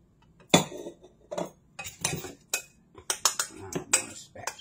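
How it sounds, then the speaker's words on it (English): A spatula scraping and knocking around a pan of melted mixture with beaten egg for apple fritter bread pudding: close, uneven strokes and clinks of utensil against metal, coming in short repeated bursts. "I'm going to spatula my pan."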